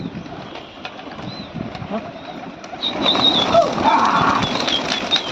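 A large flock of about 150 pigeons, released for a pigeon-flying hobby in Lucknow, bursts into the air with a rush of flapping wings that swells from faint to loud halfway through, over steady outdoor background noise.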